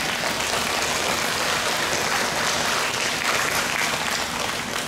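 Audience applause at a traditional Korean tightrope walking performance, a dense, steady wash of many hands clapping that stays loud and even from start to finish with no pauses.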